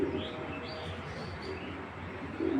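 Racing pigeons at a farm give faint, low cooing calls at the start and again at the end, over a quiet, steady background.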